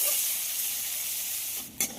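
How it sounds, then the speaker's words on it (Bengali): Chopped onion and a dried red chili sizzle steadily in hot mustard oil, a close, continuous hiss with a brief stir near the end. "গরম তেলের মধ্যে দিয়ে দেবো একটা শুকনো লঙ্কা আর একটা বড় সাইজের পেঁয়াজ কুচি"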